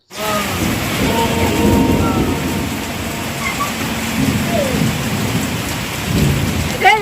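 Heavy rain pours steadily in a village, a loud dense roar of drops on surfaces with low rumbling thunder beneath, close and continuous throughout, with faint voices in the background.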